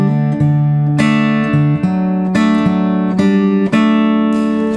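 Guitar playing bar two of a song, a run of plucked notes and chords with steady sustained tone and clear new attacks about every half second, loud and alone.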